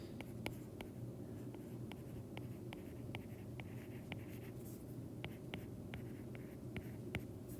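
Chalk or marker writing on a classroom board during a kinematics lesson: steady scratchy strokes and repeated sharp taps against a constant room hum, with no voices.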